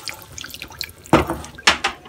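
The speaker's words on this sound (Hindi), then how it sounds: "इसे आधी गिलास पानी डालेंगे।" Half a glass of water goes into a sauce of tomato ketchup and sugar for chicken Manchurian, heard as a few brief splashing pours and drips, two louder bursts standing out over faint kitchen clatter.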